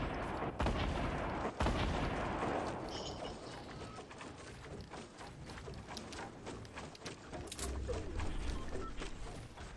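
Gunfire raining down from above in the video game Fortnite, a dense run of sharp shots and impacts through most of the stretch, loud and busy with no clear pauses.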